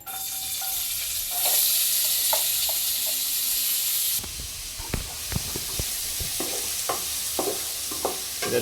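Chicken curry ingredients sizzle and fry in hot oil for a bachelor-style curry, first as a loud steady hiss, then quieter frying broken by sharp clinks and scrapes of stirring.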